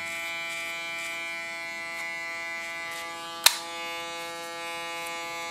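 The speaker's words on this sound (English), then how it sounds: "Use my clipper as a comb again." An electric hair clipper trims the neckline and short hair during a haircut, a steady close buzzing hum with one sharp brief click partway through.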